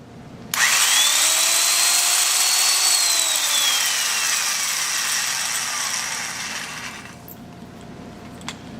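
A handheld power drill, a reversible type, whirs up when the trigger is pulled. Its loud whining motor rises and sweeps in pitch for about six seconds, then spins down and stops, with no voices over it.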